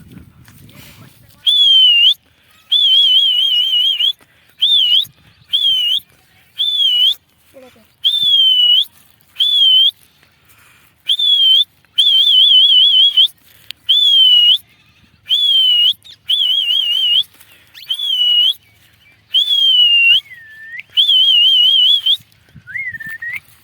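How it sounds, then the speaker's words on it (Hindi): Training whistle for ringneck parrots blown in a long series of short warbling high-pitched blasts, loud and close, separated by brief silences, outdoors. "विसल काफ़ी दूर नहीं जा रहा है हमारा"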